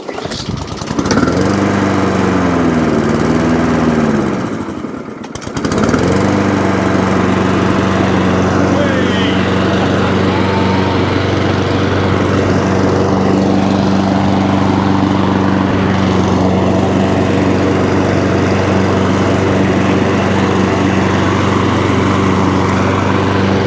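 A lawnmower engine, just back from a cable repair, cranks and catches after a brief stutter and stop. It then settles into a loud, steady, buzzing run close by.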